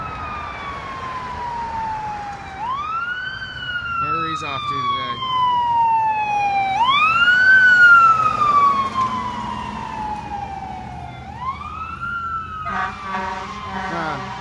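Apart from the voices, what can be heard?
fire truck siren passing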